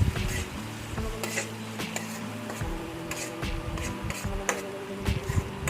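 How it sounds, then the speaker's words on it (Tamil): Tomatoes softening in a pan for banana stem rasam, giving a steady close clatter of stirring and utensil scrapes over a low sizzle, with no talking. "லைட்டாக பச்சை வாசனை போகிற அளவுக்கு லைட்டாக வதக்கிக்கோங்க"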